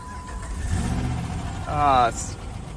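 A smashed Jeep Grand Cherokee's 5.7 Hemi V8, run with an open throttle body, cranks and catches, a low engine rumble building into a brief rising rev near the end, heard up close.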